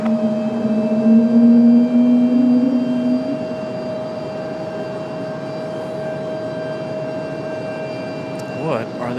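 Jet airliner on its takeoff roll from runway 23 left at Raleigh-Durham airport, a steady broad engine roar with a loud rising tone in the first seconds, easing to a constant drone heard at a distance.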